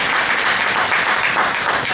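Loud, dense applause from an audience filling an event hall, continuous clapping throughout with no voices on top.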